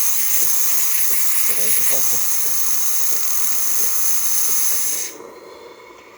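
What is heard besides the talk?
DeLonghi Magnifica espresso machine steam wand hissing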